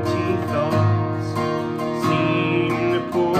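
Acoustic guitar playing the verse of a song, sustained chords ringing steadily and close up with no voice.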